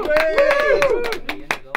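Scattered studio applause for a DJ on a radio dance show, a handful of sharp, close claps at irregular intervals mixed under a voice and tonal background sound.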